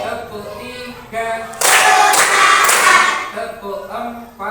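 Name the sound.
children clapping in classroom rhythm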